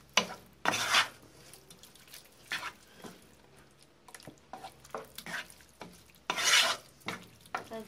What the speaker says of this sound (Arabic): كنحركهم نخليهم يطيبو عاوتاني شويه